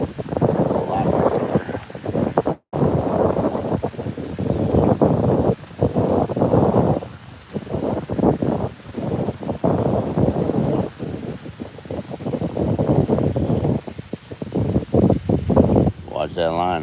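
Gusty wind buffets the microphone in loud, uneven bursts of low roaring noise for most of the clip, outdoors while bass fishing.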